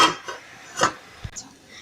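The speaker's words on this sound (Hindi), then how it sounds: "फिर से हम इसे ढक्कन दे देंगे" A metal lid clanks onto a cooking pot with a couple of short knocks and scrapes, close by.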